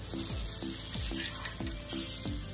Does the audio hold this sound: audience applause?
no